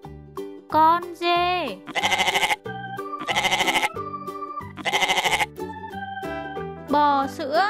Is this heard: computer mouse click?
no